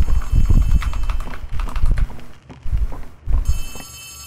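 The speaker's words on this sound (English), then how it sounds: "May narinig akong telepono." An old-style telephone rings in Poppy Playtime Chapter 3, its repeated bell bursts loud amid game footsteps and ambient noise, with no talk.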